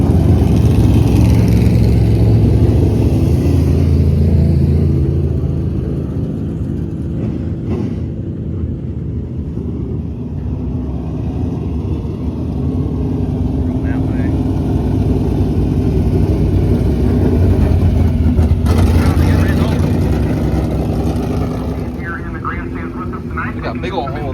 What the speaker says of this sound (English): A-Mod's rolling in from hot pits.